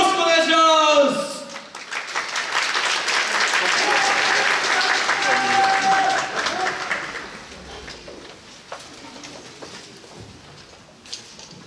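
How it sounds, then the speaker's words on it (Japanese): Crowd at a YOSAKOI dance event in Miyagi breaks into dense, loud applause and cheering that holds steady for several seconds before thinning out, with a voice heard briefly at the start. "皆様の熱い拍手、ご声援よろしくお願いします。"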